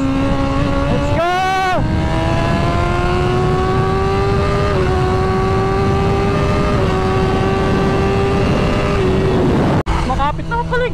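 A BMW in a drag race revs hard and accelerates, its engine note climbing steadily with brief gear-shift dips, loud and sustained, ending in a sharp cut and fresh revving while excited voices shout.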